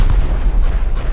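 Rockets exploding during a raid in a survival video game, a loud, close rumble of overlapping deep booms rolling continuously.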